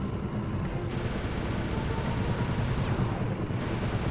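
Gunfire from shooting enemies in Sly 2 on PS3 rattles in a dense, continuous burst of rapid shots, loud and steady throughout.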